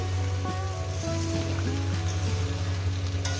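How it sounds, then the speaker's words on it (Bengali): Bottle gourd and potatoes frying together in a pan for a poppy-seed curry, a steady near sizzle with a constant low hum and a few light clinks of stirring, no talk. "লাউ আলু একসঙ্গে ভেজে নেব"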